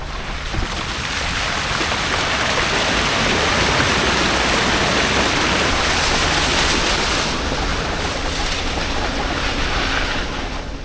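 Glacial river water flows out of a canyon in Alaska, a loud, steady roaring rush that fills the scene evenly with no voices.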